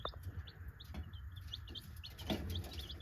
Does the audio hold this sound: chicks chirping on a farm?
yes